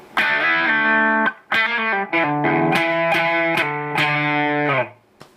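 An electric guitar with a gritty overdriven tone plays a short melodic phrase of sustained notes, loud and up close, ending in a fading ring.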